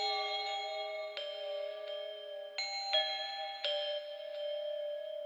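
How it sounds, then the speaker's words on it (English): Bell tones from a boom bap music beat sample ring out in a series of clean, sustained chimes, each new strike layering over the fading last, played alone. "I'm basically taking just those bell sounds that you hear right now."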